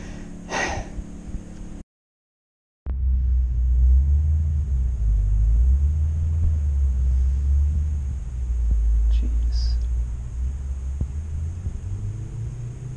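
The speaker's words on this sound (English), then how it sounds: "What a disgusting engine." A Mitsubishi plug-in hybrid's engine runs with a low, steady rumble close by. It goes briefly silent, then resumes a constant drone, with a faint breath or sigh near the start.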